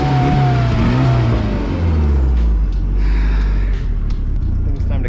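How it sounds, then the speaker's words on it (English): Nissan SR engine at a drift event revs up with a rising tone, then drops back into a loud, rough rumble close by, carrying an odd, uneven note. "I'm gonna try and rev it up and see if I can hear it"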